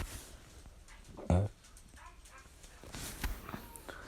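A dog heard close by: a single sharp bark or bump, then soft whimpers and small movements against a quiet room, with no speech.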